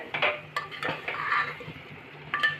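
A spoon stirs a thick jackfruit curry masala in a pot over low heat, making a few irregular clinks and scrapes against the metal with a soft wet shuffle in between. No voices.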